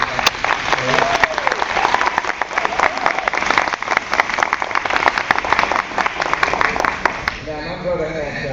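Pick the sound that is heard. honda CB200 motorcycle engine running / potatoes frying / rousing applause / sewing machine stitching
rousing applause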